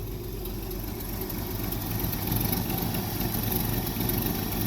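A 1965 Ford F100 pickup engine idles steadily on a cold start, a low, rumbling drone that holds constant throughout, loud and close with no voices.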